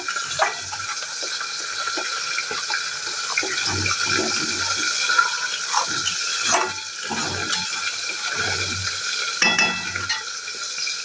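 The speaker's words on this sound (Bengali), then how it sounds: "তো এটা খুব ভালো করে এর সঙ্গে কষিয়ে নেব।" Coriander leaf paste frying with spices for a fish curry, stirred in a pan with no added water, gives a close sizzle broken by repeated scraping stir strokes at an uneven rhythm, with no talking.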